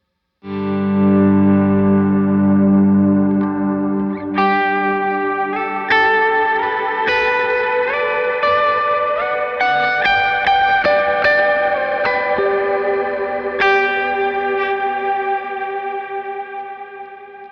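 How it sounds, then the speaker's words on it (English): A guitar runs through a Meris effects pedal on its gravity reverb preset, strummed chords blooming into a dense shimmering wash with long swelling tails, steady and loud, no voice. "This gravity stuff is insane."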